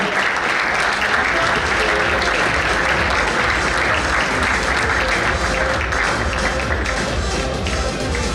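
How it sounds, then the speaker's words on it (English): An audience applauding a lifetime achievement award at a cricket club awards banquet: sustained, even clapping from a large crowd filling the room, loud and continuous for several seconds with no talk on top. "A big round of applause for Mr."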